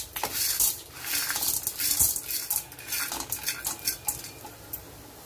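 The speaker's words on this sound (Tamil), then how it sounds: "நிறம் வர அளவு கிண்டி விட்டுக்கலாம்." Mustard seeds, chana dal and peanuts fry in hot oil for lemon rice while a metal spoon stirs them in the pan, giving repeated scraping clinks over a soft sizzle.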